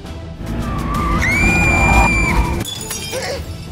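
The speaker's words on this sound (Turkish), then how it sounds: "Bardak elinden kaydı." A drinking glass slips from a hand and shatters on the floor, a sharp breaking crash followed by a high shrill cry, loud and close in an indoor scene.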